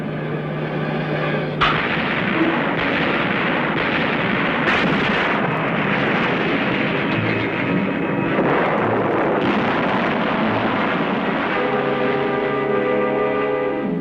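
Naval gunfire bombards positions at the WWII Battle of Okinawa, heavy guns booming again and again over a dense roar of battle, loud and continuous, with sharp blasts punctuating the din.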